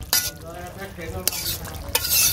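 Fish with cumin paste frying and stirred in a pan during village cooking: steady close sizzle with repeated scraping stirs and a couple of sharp knocks of the utensil against the pan, with no voices.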